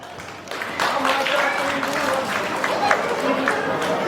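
Guests at a sünnet toy circumcision celebration clap in a steady rhythm along to a song, the moderately loud, continuous clapping mixed with singing voices.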